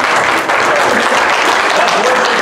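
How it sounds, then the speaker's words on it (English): A church congregation gives a loud, sustained clap offering during a worship service, thick continuous applause filling the room with voices mixed faintly underneath. "Give the Lord a good clap offering."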